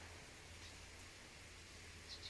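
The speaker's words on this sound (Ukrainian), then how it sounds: "У нас іде дощик." Light rain falls outdoors, a faint, even hiss of small drops that continues without pause and with no voices over it.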